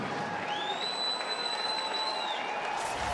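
Crowd roar building and sustained in a baseball stadium at a Rockies at Tigers game, steady loud broadband cheering with a long whistle-like tone riding over it.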